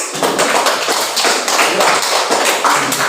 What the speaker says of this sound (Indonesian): mari kita tepuk tangan untuk kelompok